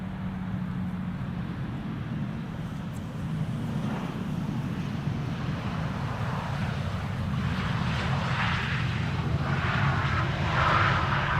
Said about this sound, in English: we have a Sky Express flight 944 arriving from Izmir in Turkey